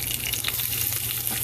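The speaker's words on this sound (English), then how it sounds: "So now we can add garlic." Split garlic sizzles steadily in hot oil for tempering, a continuous bright crackling fry with no pauses.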